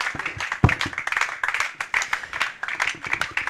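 An audience claps continuously at a live event for the CEO and co-founder of Ennovate Lab as he takes his seat, a dense, steady patter of many hands with a few louder nearby claps.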